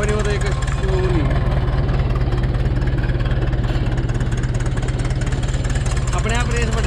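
A 1972 McCormick International B276 tractor engine idles with a steady, rhythmic low thudding throughout, loud and close, while people talk over it.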